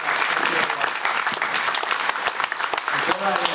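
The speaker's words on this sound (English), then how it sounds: "Huge round of applause." Enthusiastic audience applause at a fintech conference session, dense and sustained clapping from a sizable crowd with sharp individual claps standing out, a voice briefly audible over it.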